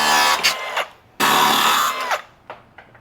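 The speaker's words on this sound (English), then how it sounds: "zip these off with the good old cutting wheel" Cutting wheel slicing bent metal parts off a 1997 Jeep TJ, loud high-pitched screeching bursts that start and stop, with a longer grinding pass in the middle and short spin-downs after.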